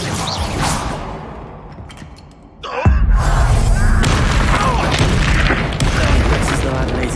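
The fire spell Confringo bursts into a deep, booming explosion in Hogwarts Legacy, cutting in with a sudden heavy thud after quieter combat effects and rumbling on with crackling debris close and loud.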